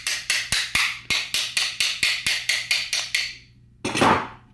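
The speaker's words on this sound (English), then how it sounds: "tap it in with a hammer" Hammer tapping a go-kart exhaust top cover into place over its front metal folds: about a dozen sharp, close metallic strikes in a steady quick rhythm, then a short pause and one heavier, duller blow.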